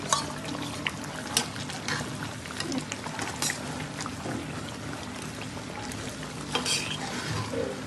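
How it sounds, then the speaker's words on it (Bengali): Nut and sauce paste goes into a pan of chicken roast and gets stirred, with scraping spoon strokes and soft sizzling at moderate level, a few sharper clinks, and no talking. "আমি এখন এই বাদাম আর সসের পেস্টটা দিয়ে দিলাম"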